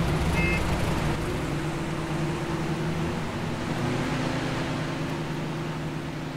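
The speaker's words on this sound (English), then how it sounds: "Loud ass trucks." Heavy military trucks driving in the ArmA 3 video game, a loud, continuous low engine drone with a steady tonal hum throughout, close and without talk.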